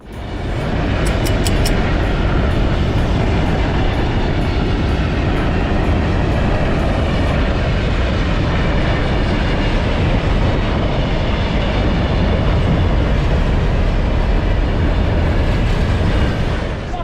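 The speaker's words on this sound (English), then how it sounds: "we got the train" An extreme train rumbles past continuously at close range, a broad steady roar with faint rhythmic clatter from the rails throughout.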